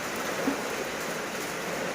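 Heavy rain after days of downpour falls in a dense, steady hiss, close and continuous, with no voices.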